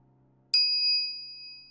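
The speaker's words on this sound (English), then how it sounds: "I'm greeted with the chiming of a microwave oven" One bright microwave oven chime from the visual novel game Steins;Gate strikes sharply after a quiet hum, then rings out and slowly fades, alone and clear.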